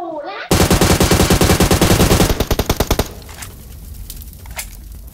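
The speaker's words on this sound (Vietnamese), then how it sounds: "bắn nổ xe, bắn nổ xe" Loud, rapid automatic gunfire rips through a PUBG Mobile match as shots hit a vehicle, a dense burst lasting over two seconds before breaking off into a few fainter distant pops.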